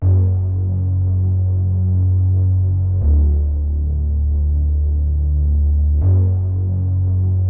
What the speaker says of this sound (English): And this is how the bass sounds.